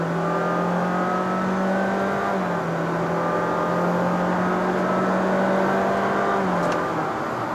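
A 2022 Honda City 1.5L RS e:HEV hybrid sedan accelerates on the road in Malaysia, with a smooth, continuous rising whir and engine drone heard from inside the cabin, steady and moderately loud throughout.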